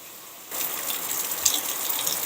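Floodwater from a flash flood after severe weather rushes toward a pond behind a flooded backyard. A steady, loud broadband roar begins abruptly and then continues without a break.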